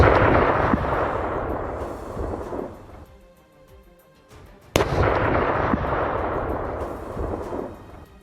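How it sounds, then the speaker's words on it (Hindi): A loud, close missile-strike explosion in Lebanon cracks sharply and rolls into a long rumbling roar, following an earlier sustained blast that fades briefly into quiet. "तेज धमाके के साथ पूरा इलाका थर्रा गया"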